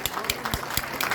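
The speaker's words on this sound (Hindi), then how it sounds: "जोरदार ताली भाई।" Applause from a crowd at a political rally in Jind, brisk scattered clapping with distinct individual claps close by.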